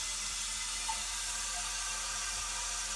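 Water flowing steadily through the plumbing of a Kohler K9 steam generator just after repair and re-soldering, a constant faint hiss of running water with no talk.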